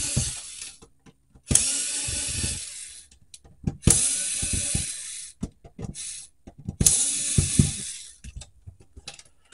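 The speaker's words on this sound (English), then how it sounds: "We're going to get our controller ports, unscrew those, and get those out of the way." Three bursts of ratcheting as a T10 screwdriver backs out the controller port screws on an Original Xbox console, each burst a second or two of close clicking separated by short pauses.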